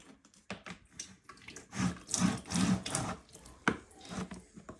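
A mop is dipped into a water bucket during chemical-free floor cleaning, giving soft close sloshing, dripping and wringing sounds in irregular bursts, with no talking.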